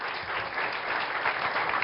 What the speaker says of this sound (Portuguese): Um forte aplauso para o nosso médico pediatra